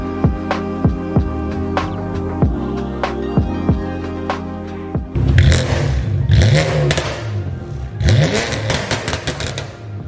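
A BMW F80 M3 fitted with a new aftermarket exhaust, revved while parked: a run of sharp throttle blips that rise and drop, then longer, louder revs full of raspy crackle, close and with no talking.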